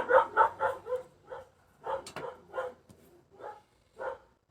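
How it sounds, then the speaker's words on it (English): A dog barks repeatedly in short bursts, some distance away, with irregular pauses between barks and no talking. "And there's my baby Daisy out there barking."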